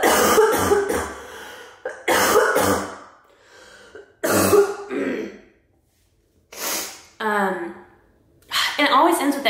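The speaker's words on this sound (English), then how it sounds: "oh God, I got a cough again" Several harsh coughs and throat-clearing bursts come close up, with short pauses and breaths between, ending in a sniffly exhale.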